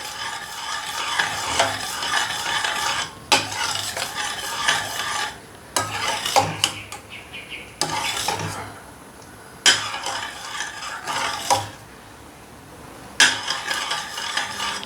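Carrot pudding is stirred in a pot over the fire, with repeated scraping strokes in bursts separated by brief pauses, close and fairly loud, with a faint sizzle underneath and no voices.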